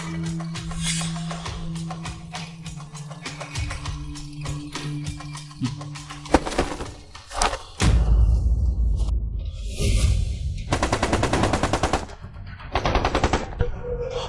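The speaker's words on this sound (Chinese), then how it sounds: "导弹打，炮弹轰，白脸洗地" Rapid bursts of heavy gunfire and booming blasts, with whooshing projectiles and loud explosions crashing in close succession, intense and chaotic.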